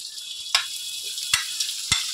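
Spice paste for a desi chicken curry fries in a pan with a steady close sizzle, broken by three sharp scrapes of the spoon as it is stirred, with no voices.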